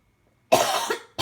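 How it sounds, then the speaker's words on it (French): A single person gives a close, harsh cough with two bursts, the second one short, after a moment of near silence. "je tousse encore un peu"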